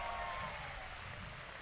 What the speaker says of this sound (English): And Alexei should get a big cheer here.